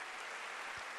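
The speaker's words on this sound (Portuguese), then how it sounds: "Seu aplauso pode significar amém" A church congregation applauds continuously in a brief, dense burst of clapping that fills the room.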